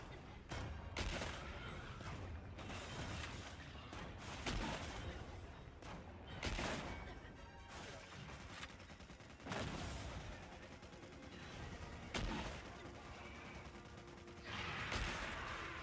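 Repeated weapon shots from the Monster Hunter Wilds video game, sharp bursts landing every couple of seconds over a dense layer of game effects and music, with no talking.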